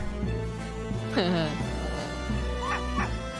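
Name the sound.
dog barking in Professor Layton vs Phoenix Wright video game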